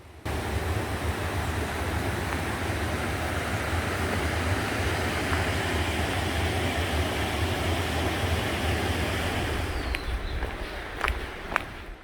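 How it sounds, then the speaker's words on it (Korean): Rushing valley stream water roars steadily and loudly, a constant broadband wash with a few light knocks near the end, heard from a rest area beside it. "이렇게 쉼터에 앉아 있으면 물소리가 아주 크게 들립니다"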